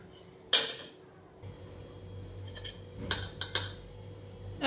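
A metal spoon clinks against a pan or bowl while mixing spices and masala for dal tadka, giving a few sharp scattered taps with quiet pauses between.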